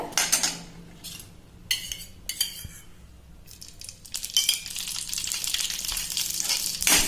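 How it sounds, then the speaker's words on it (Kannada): Green chillies frying in oil in a pan for raw tomato chutney, with bursts of crackling and sputtering plus metallic scraping and clinks of a utensil against the pan, growing busier toward the end. "ಫಸ್ಟ್ ಇದ್ರೊಳಗ ಮೆಣಸಿನ್ಕಾಯಿ ಫ್ರೈ ಮಾಡ್ಕೊಂಡ್ರಿ"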